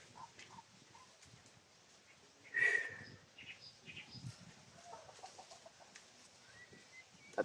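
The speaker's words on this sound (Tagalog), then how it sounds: "Tatlong puting manok yung dala namin." White chickens cluck faintly in a quiet outdoor setting, with one brief louder squawk and scattered soft clucks afterward.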